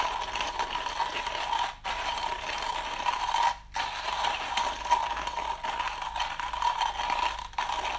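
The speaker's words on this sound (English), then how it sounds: "All right, so just grinding the coffee," A Comandante MK4 American Cherry hand grinder crunches coffee beans, a continuous gritty grinding with short pauses between turns, close and steady.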